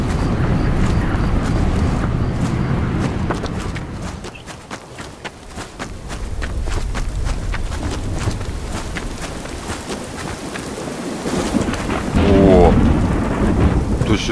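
Heavy rain pours steadily in the Cursed Forest video game while loud rolling thunder rumbles through it, swelling and fading, with a sharper crack near the end; no one talks.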